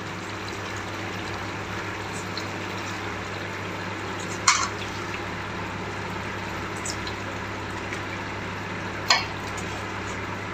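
Chicken pieces are sautéed in masala for chicken biryani, a steady, even sizzle that runs throughout, broken by two brief metallic clinks of a utensil on the pan.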